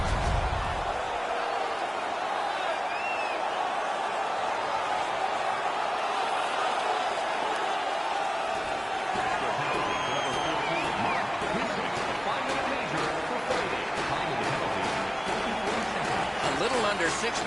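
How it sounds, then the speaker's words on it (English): Hockey arena crowd roaring steadily after a fight between Sabres and Predators players, a dense, sustained wall of cheering and shouting that stays loud throughout with no single voice standing out. "The crowd is so pumped right now."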